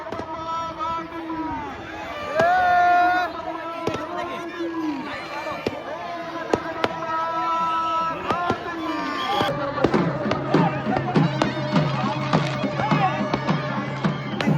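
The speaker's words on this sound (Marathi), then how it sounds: "क्रेझी गर्दी बघू शकता काय तुम्ही" Huge festival crowd at the 150-year-old Satpur bullock cart procession in Nashik, with twelve carts and a Ganesha: dense, continuous crowd noise with shouting voices, sharp bangs and clatter, growing louder and busier partway through.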